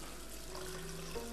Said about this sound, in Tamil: ஓ, தண்ணி வருகிறது.